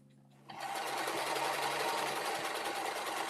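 A two-year-old domestic sewing machine starts up and runs steadily at full speed, a continuous close whirring hum that holds its pace to the end, with no talking over it.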